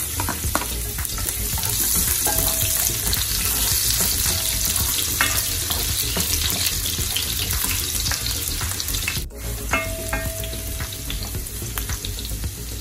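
Garlic sizzling in hot cooking oil in a pan, a steady dense crackle with occasional stirring scrapes and a brief clatter partway through, with no talking.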